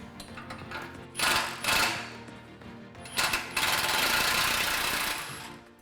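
A ratchet or impact tool works loose a rusty 15mm muffler bolt under a 2018-2019 Jeep JL Wrangler, sounding in short rattling bursts followed by a longer sustained run, close and fairly loud.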